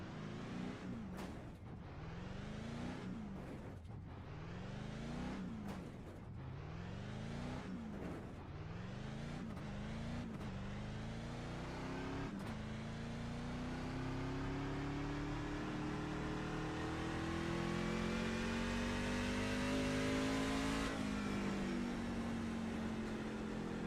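A race truck engine on a qualifying lap in a racing sim, first climbing through repeated quick upshifts in a rising pattern, then holding a long steady high drone, close and continuous with no talk.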